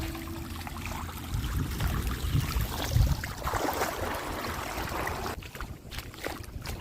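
Floodwater rushes through farm fields after extremely heavy rain, a loud churning wash with low rumbling surges that stays constant and close throughout.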